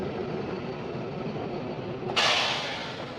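The Kalka–Shimla toy train pulls out of Kalka station in winter with a steady rolling rumble. Partway through, a sudden hissing rush cuts in and then eases off slightly, with no talk.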